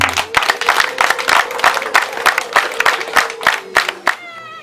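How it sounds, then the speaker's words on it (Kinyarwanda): Guests at a wedding celebration clap in a steady rhythmic pattern, loud and close, with a pitched tone running beneath and the clapping breaking off near the end. "bongere batanga amashyi"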